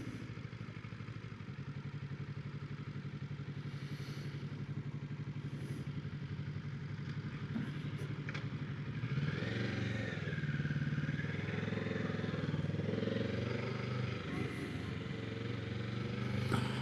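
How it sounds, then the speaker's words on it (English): A motorcycle engine rumbles past at moderate distance, rising and falling over steady road noise, with no voices. "There's a motorcycle."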